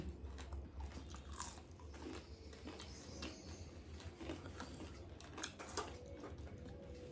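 Crunchy fried vadas are bitten and chewed close up, with repeated crisp crunches and soft mouth sounds at a low level.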